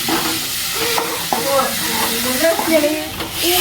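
Pepper sautéing with country chicken in a pan for a Tamil-style chicken curry and fry, a steady loud sizzle with scraping stirring strokes, and a voice faintly underneath.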